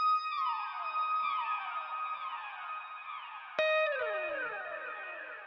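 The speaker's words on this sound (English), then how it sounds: "If you can find some guitar one shots, they be enhancing the vibe like crazy" Guitar one-shot samples for a beat: bright sustained plucked tones that slide downward and ring out, then a second sharp attack partway through that glides down and fades, alone with no talking.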